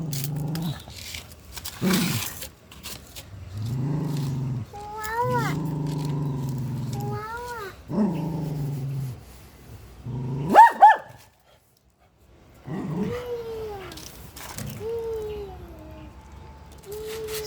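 A dog barks and growls at a cat in a string of loud, close barks and throaty growls with short pauses between bursts.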